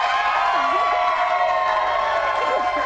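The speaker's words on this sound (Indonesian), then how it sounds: "Aku minta tepuk tangannya ya untuk Mbak Dea nih." A studio audience at an Indonesian television variety show cheers and claps steadily, a loud continuous crowd roar with a few whoops rising over it.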